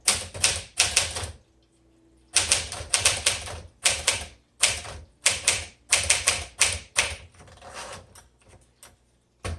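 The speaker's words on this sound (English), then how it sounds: "Despite my hitting the wrong keys, it's typing very well." A 1958 Smith Corona Sterling portable manual typewriter being typed on in bursts of rapid, close key strikes, broken by short pauses and a brief gap near the start.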